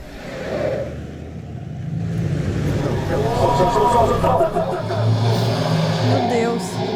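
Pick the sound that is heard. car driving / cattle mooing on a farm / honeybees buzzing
car driving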